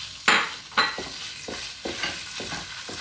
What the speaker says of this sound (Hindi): ऑयल में इसको फ्राई करना है हाई हीट पर।